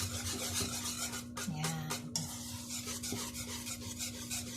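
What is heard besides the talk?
stirring Knox gelatin mixture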